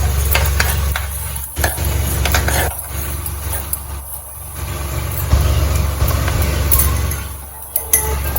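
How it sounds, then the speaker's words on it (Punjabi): Cumin seeds roasting in a pan, a continuous loud dry sizzle with scraping stirs, steady throughout with occasional clatter. "ਜੀਰੇ ਨੂੰ ਆਪਾਂ ਭੁੰਨ ਲਾਂਗੇ ਪਹਿਲਾਂ ਚੰਗੀ ਤਰ੍ਹਾਂ"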